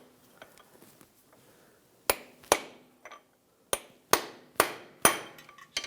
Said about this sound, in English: just take a long punch, and on the back side of the CV axle, we'll just punch it outwards